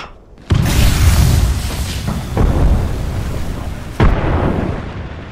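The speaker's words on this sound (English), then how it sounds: "Incoming grenade!" A grenade explosion in the video game Apex Legends: a sudden loud boom with a rumbling tail, followed by a second sharp blast a few seconds later, close and without speech.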